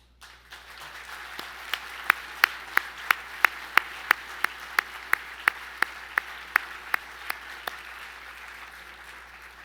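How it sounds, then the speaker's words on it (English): At a journalism awards dinner, scattered applause swells into a crowd clapping in slow, evenly spaced unison beats, each sharp clap standing out over a bed of lighter clapping before it fades. "let's clap one more time so they can hear us in Moscow"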